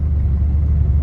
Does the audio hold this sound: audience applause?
no